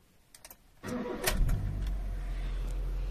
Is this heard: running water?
no